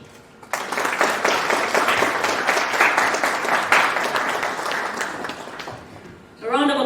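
Audience applause after a business talk in Zambia rises sharply after a brief quiet moment and holds steady for several seconds, a dense crackle of many hands. It fades near the end as a voice starts talking.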